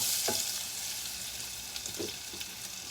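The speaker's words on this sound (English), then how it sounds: "you want to saute those onions for just a little bit" Onions thrown into a pot of hot olive oil, sautéing with a steady close sizzle and a couple of soft stirring knocks, no voices.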